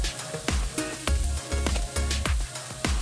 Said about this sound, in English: Let the tomato cook until a bit soft.